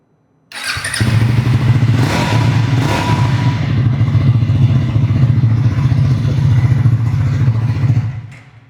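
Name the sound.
2026 Triumph motorcycle starting and revving, dual barrel exhaust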